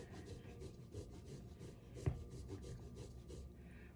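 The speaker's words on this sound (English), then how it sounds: "grate our Parmesan cheese." Fresh Parmesan cheese grated on a stand grater, quiet close rhythmic rasping strokes repeating about twice a second, with one sharper knock midway.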